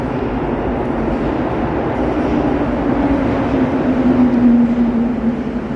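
A Montreal metro AZUR train rolls past continuously, a steady rumble with a rising whine that peaks and tails off near the end, no voices.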